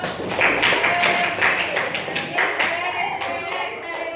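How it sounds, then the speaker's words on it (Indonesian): Classroom participants clapping together during a mathematics lesson, a loud, fairly rhythmic burst of applause with distinct hand claps that softens toward the end. "Oke, beri tepuk tangan untuk"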